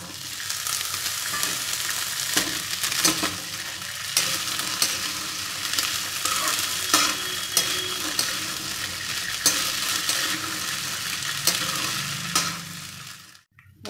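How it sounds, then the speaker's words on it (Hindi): Boiled chickpeas fry in hot oil with cumin and ajwain, a dense continuous sizzle with scraping stirs and occasional clinks of a utensil against the pan, close and steady for about fourteen seconds. "इसके बाद हम इसमें ये उबले हुए चने डाल देंगे।"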